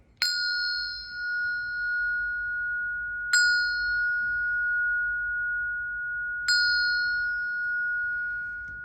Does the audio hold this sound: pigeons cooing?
no